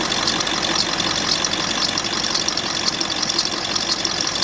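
A running 7.3 engine drives its belt and pulleys with a loud, constant mechanical roar and a high whine on top. The sound stays steady and close, with no talk.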